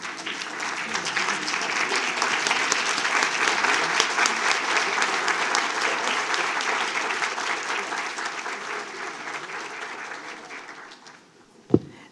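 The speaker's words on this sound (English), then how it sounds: "we need to stand up and give this young lady a round of applause" Standing ovation from the audience at a school district board of trustees meeting, sustained dense clapping that slowly tapers off near the end, followed by a brief knock or bump.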